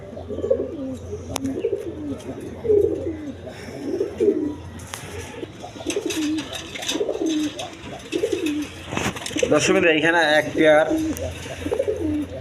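Indian lotan pigeons cooing in a pair, repeated soft throaty coos at regular intervals, joined by someone talking over them and a brief flutter near the end.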